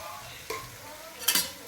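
A spoon stirs spices into raw mango curry in a pan, giving a soft steady sizzle with two short, sharp scrapes.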